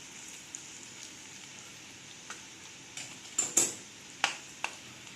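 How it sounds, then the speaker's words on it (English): A spatula scrapes and clacks against a pan while stirring frying potatoes and onions, several sharp metallic knocks spaced irregularly over a faint, steady sizzle in a quiet kitchen. "And then I'll stir in or mix in well the potatoes and the"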